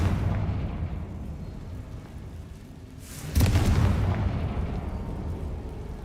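A Confringo spell explosion in Hogwarts Legacy on PC. A single loud, sudden blast breaks through a quieter low rumble and leaves a heavy roar that slowly fades.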